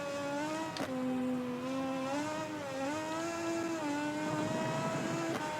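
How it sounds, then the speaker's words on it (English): A racing motorcycle in MotoGP 20 with a steady, high-pitched engine whine that climbs and dips through gear changes as it accelerates, heard alone at moderate volume. "As the bike does not like accelerating."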